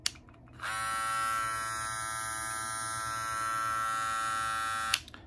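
A Babyliss Lo-Pro FX hair clipper switches on and runs with a steady, bright electric buzz for about four seconds, then clicks off, heard close and alone with no talking.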